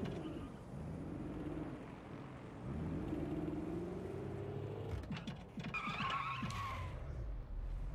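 An electric car in the Watch Dogs video game drives and skids, a continuous low engine-like rumble swelling as tires squeal and scrape near the end, moderately loud with no talking.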